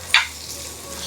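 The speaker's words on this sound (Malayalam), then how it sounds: "ഒരു ഗോൾഡൻ നിറം ആവുന്നത് വരെ ഒന്ന് വഴറ്റിയെടുക്കുക." Small onions sautéing over a medium flame until golden, giving a short, steady sizzle in the pan with one brief, sharper stir or scrape near the start.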